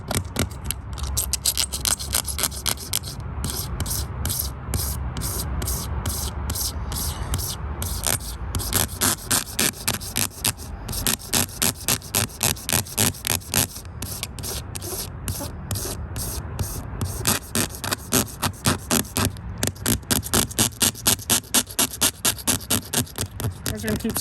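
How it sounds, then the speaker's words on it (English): Razor blade scraping a car windshield during a Rain-X windshield repair, a steady run of rapid, rhythmic scratchy strokes repeated close up for the whole stretch with firm pressure. "we're going to keep scraping until we get it all off"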